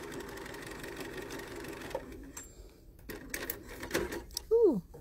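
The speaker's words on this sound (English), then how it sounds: "I want to go over that last seam one more time" A sewing machine runs a repeat pass along the seam of a fabric stand-up treat bag, its steady motor whir filling the first couple of seconds before stopping, followed by quieter handling noises and people chatting.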